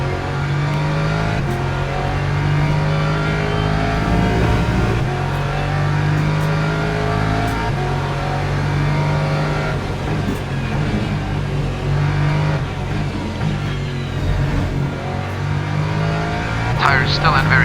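A Ferrari race car in the video game Le Mans Ultimate, at the 6 Hours of Imola, pulling out of the pits with a loud, sustained engine drone that climbs and falls in pitch through gear changes, with commentary over it.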